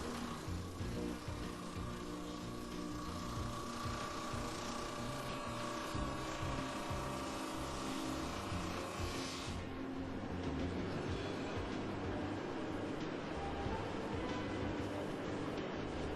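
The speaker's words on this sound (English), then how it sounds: "A second head completes the cut, creating a splinter and tear-out free saddle notch." A Pendu 6200 two-headed log notcher's tooling head cuts a saddle notch into a log, giving a continuous loud roar of machinery and cutting noise that holds steady throughout.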